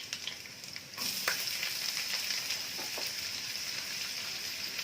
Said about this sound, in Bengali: এগুলো ব্রাউন করে ভাজা হয়ে গেছে। এখন আমি দেবো পেঁয়াজ কুচি